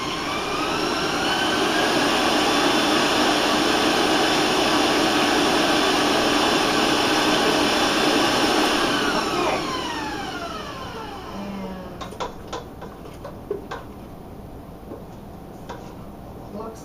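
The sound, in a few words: electric mixer on high beating eggs into cookie batter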